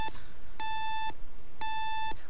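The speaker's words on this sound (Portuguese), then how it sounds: "É um despertador?" Electronic alarm clock in a Half-Life 2 mod game gives two evenly spaced, half-second beeps, clear and steady over low background noise.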